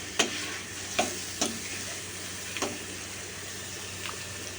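Prawns are stirred in a pan for prawn malai curry, with a soft, steady sizzle under a few sharp spoon clicks against the pan spaced irregularly across the stretch.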